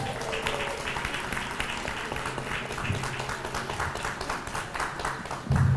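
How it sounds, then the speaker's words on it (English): Scattered audience clapping for panelists at an International Women's Day event, light and moderately quiet, continuing evenly with some background murmur. "If we can give a round of applause to our panelists."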